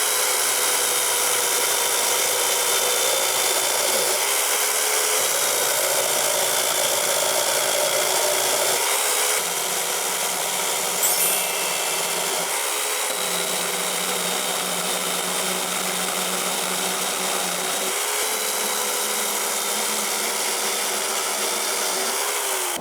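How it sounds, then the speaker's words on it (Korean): Corded electric chainsaw, a budget model, cutting through a log about 13 cm in diameter: a steady, loud motor whine that runs continuously and close, with slight changes in load as the chain bites. "첫 번째는 지금 지름이 13cm 정도 되는 나무를 한번 잘라 보겠습니다."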